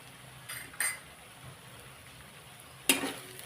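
A pounded mix of garlic, coriander and green chilli fries in a pan, a soft steady sizzle with a few sharp metallic clinks of the stirring spoon against the pan, with no talking.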